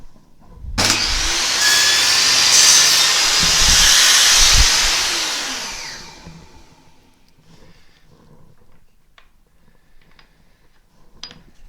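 A table saw blade cuts through wood for a half lap joint, starting with a sharp loud burst, whining steadily for several seconds close by, then spinning down into quiet shop noises.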